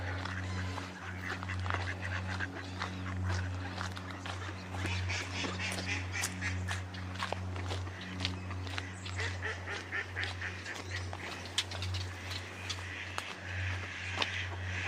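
Ducks quack and honk repeatedly at a pond against a steady low hum, their calls scattered and overlapping at moderate distance throughout.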